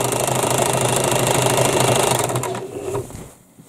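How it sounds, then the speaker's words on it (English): A sewing machine runs a reverse stitch through a heavy-duty bag, a steady close mechanical whirr for most of the stretch before slowing and stopping near the end, with no talking. "I like to do a reverse stitch just to give the thing an extra bit of strength."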